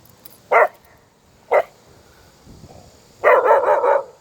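Dog barking loudly outdoors near a lake: two single sharp barks, then a burst of rapid repeated barks, close and prominent with no talk.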